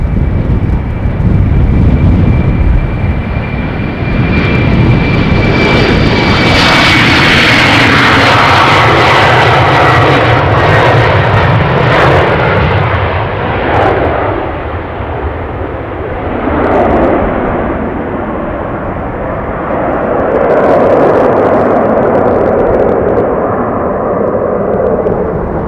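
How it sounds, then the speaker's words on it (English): A DHL Airbus A300 at Amsterdam Schiphol gives a loud, sustained jet roar with a faint high whine, swelling and slowly easing over about half a minute, close and unbroken, with no voices. "Hopefully the A300 will come this way."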